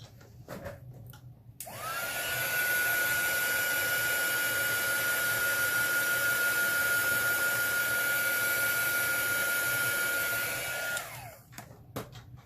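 Hair dryer drying an alcohol ink painting: a steady, loud whirring blow that switches on, holds an even pitch for about nine seconds, then winds down and cuts off.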